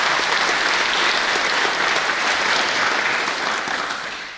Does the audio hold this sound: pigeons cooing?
no